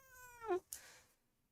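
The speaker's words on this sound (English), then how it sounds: "We got a noisy cat." A single cat lets out one loud, close meow at a home during a live stream, the cry rising and breaking off sharply, followed by a brief rustle, then quiet.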